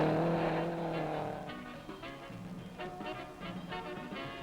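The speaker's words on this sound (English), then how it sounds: "A cloud of dust follows the Jacobs Fiat 2300 as it slides round a bend" A Fiat 2300 rally car slides round a dusty bend on an East African Safari Rally stage in 1963, its engine roaring loudly at first, then settling into a steady drone with some faint tyre scrabbling.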